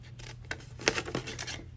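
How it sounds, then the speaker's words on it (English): Scissors snip along the score lines of a paper craft piece, several quick crisp cuts close by over a low steady hum, with no voices. "Just cut up the score lines here to that other line that you made going across, and we're just going to cut the ends off of here."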